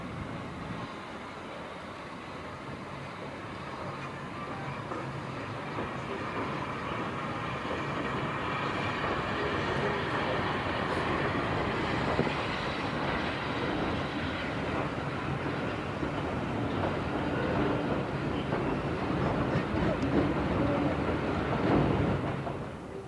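A Nene Valley Railway train rumbles steadily past, a broad continuous roar that slowly grows louder and holds close for over twenty seconds before easing off at the end, with no voices.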